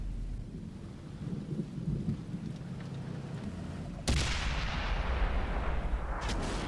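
A tank cannon from an SU-100 in the video game World of Tanks fires once with a sudden loud boom partway through, following low rumbling battle noise and leaving a sustained roar afterward.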